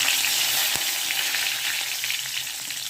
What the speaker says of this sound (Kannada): ಇವಾಗ ಕರ್ಬಿ ಹಾಕೊಳ್ಳೋಣ